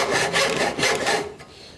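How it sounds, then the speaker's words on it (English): A hand saw cuts a dado into a wooden seat slat for a portable deck chair, giving a few quick rasping back-and-forth strokes, close and clear, that fade at the end. "Just saw that straight in down to my gauge line."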